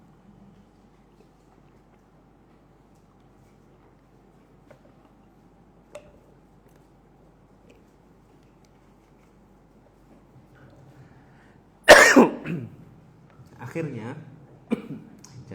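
A person coughs several times in short bursts after a long quiet stretch, close to the mic, with a little speech nearby.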